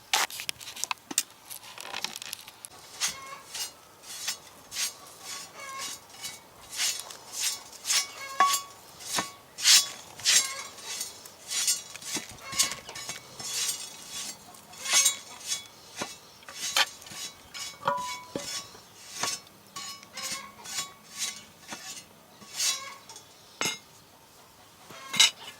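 A small metal spatula scrapes and clinks against a Dutch oven while lifting out 7 Up biscuits onto a plate, giving sharp, repeated metallic taps and scrapes in an irregular rhythm, close up and with no talking.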